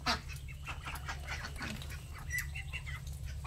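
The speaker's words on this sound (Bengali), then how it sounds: "হাঁসগুলো দৌড়ে বেরোবে" Ducks at a rural home rush out expecting to be fed, giving scattered quacks and honking calls over steady low background rumble, near and moderately loud throughout.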